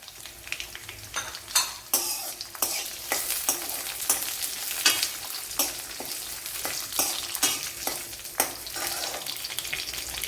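Small shallots fry in a hot pan with curry leaves while cooking a Kerala kadala thoran, giving a steady sizzle broken by repeated sharp scrapes and clicks of stirring.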